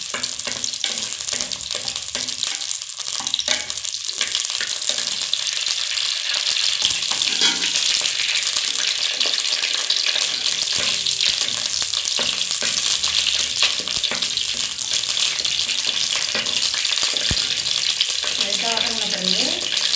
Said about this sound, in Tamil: கத்திரிக்காய் போட்டு கொஞ்சமாக வதக்கிக்கிறோம்.